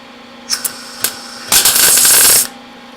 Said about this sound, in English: for short little tacks like this, the less time you spend actually welding, the better it is